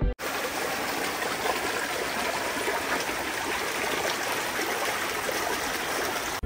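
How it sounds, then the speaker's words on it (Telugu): A small forest stream flows beside a walking path on the way to the tall Saptha Gundala waterfall, a steady close rushing and trickling of water that carries on without a break. "ఇట్లనే పోతుంటే పక్కన ఒక సెలయర్ కనిపించింది"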